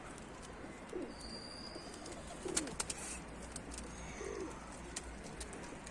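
Pigeons coo softly in a few low, throaty phrases against a steady outdoor hiss, with faint chirps and clicks nearby.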